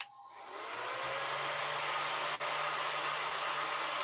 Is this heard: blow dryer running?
yes